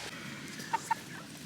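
Nine-week-old Rainbow Ranger meat chickens cluck twice, short soft calls over a faint outdoor background of the flock.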